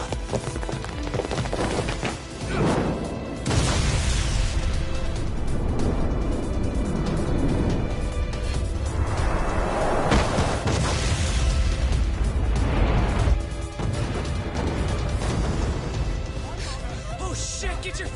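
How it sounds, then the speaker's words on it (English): A ship exploding in the Lost Judgment video game, a dense roaring rumble with booms and crashes that swells and holds for several seconds amid dramatic game audio and voices. "This ship just exploded!"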